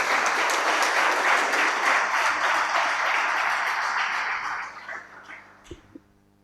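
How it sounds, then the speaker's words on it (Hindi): Audience in an auditorium hall applauding to welcome a speaker at a Saraswati Puja program, a dense burst of clapping that holds steady, then fades out over the last two seconds. "एक बार जोरदार तालियों से उनका स्वागत करें"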